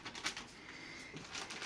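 Keys on a Razer Cynosa Chroma RGB gaming keyboard clacking in a short, quick flurry, close and fairly soft with no talking.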